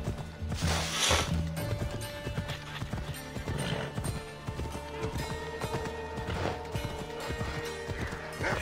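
Rapid galloping horse hooves from the video game Assassin's Creed Odyssey, a steady loud clip-clop rhythm running throughout with a brief whinny near the start.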